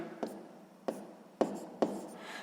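A pen writes a math expression by hand on paper, with four distinct scratchy strokes, each a short sharp tap followed by fainter scraping, close and quiet.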